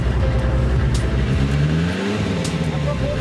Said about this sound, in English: One last rev for good measure as a goodbye.